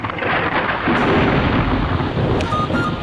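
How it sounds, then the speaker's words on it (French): Thunder from a lightning storm in Congo rumbles loud and close as one long, deep roll, with heavy rain hissing steadily underneath throughout. "le tonnerre, c'est tout simplement le bruit de l'éclair."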